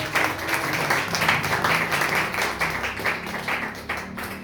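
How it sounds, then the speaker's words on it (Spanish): Church congregation applauding together, a steady dense wash of many hands clapping for several seconds at moderate level, without voices on top. "Denle un aplauso al Señor."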